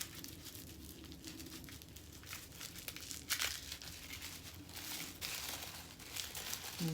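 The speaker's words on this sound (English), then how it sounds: "And tear this open." Packaging around an angelite crystal pendant being torn open, with crinkling and crumpling of wrapping close by, fairly quiet, plus a sharper tear midway.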